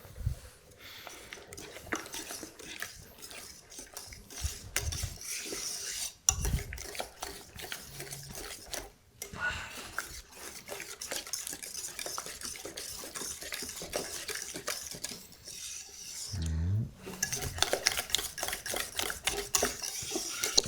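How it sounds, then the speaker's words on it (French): A whisk or spatula stirs gelatin into hot vanilla pastry cream in a pan on an induction hob that is switched off, giving continuous close scraping and sloshing with small clinks against the pan. "Et là, on mélange bien jusqu'à ce que toute la gélatine soit bien fondue et incorporée."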